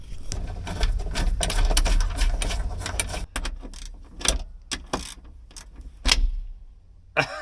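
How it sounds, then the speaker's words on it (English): A bracket latch on a Caterpillar 304C mini excavator gives close metallic clicks, clacks and rattles in an irregular run, with a few sharper snaps toward the end. "It does latch though now. See? See how it latches easier?"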